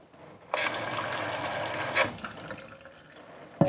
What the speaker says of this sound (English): fill it with 6 cups of water.